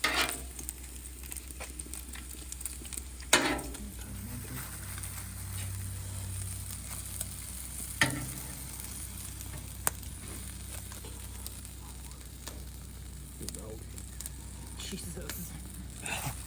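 Onions sizzling and frying on a seasoned 36-inch Blackstone griddle, a steady broadband hiss with scattered crackles and a few sharp scraping clicks, continuous throughout.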